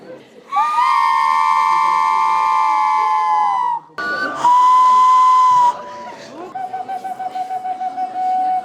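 Handmade clay whistles are blown at a mass whistle-making record event: several bright, shrill sustained tones, one long blast followed by a shorter higher one, then a rapid fluttering series of short toots, loud and close.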